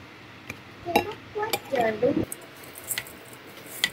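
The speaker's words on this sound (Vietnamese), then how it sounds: "Ở đây mình trộn cho cá thấm đều gia vị rồi bắt đầu mình mới đem kho nha cả nhà" Fish is mixed with chopped onion, garlic and seasoning in a bowl, giving scattered close clinks of utensil on bowl and soft wet squishes.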